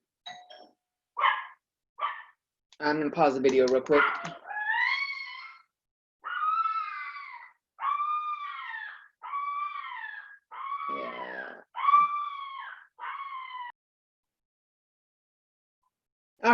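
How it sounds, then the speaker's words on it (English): A dog barks repeatedly at a home delivery, loud and close, in a run of sharp barks and drawn-out howling yelps. A brief spoken remark comes before the barking. "if you heard the dog, that's the dog letting everyone know that something's wrong"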